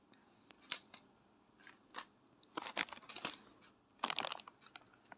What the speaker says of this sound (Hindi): तो मैं पूरे को टेप डाल दे रहा हूँ